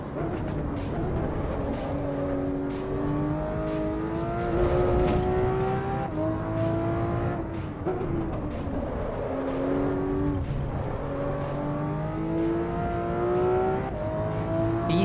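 Volvo S60R, a 300-horsepower all-wheel-drive sedan, in a racing simulator game: continuous engine drone rising and falling through repeated gear shifts, loud and close throughout.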